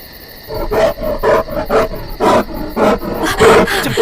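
A bear roars in a Hindi-dubbed horror movie: a string of loud, close, rough roaring bursts, each a second or less, repeating almost without pause.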